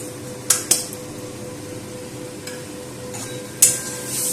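Spice masala with salt, turmeric and sugar sautéing in a pan for a sour shol fish curry: a low, constant sizzle broken by a few sharp spatula clinks against the pan.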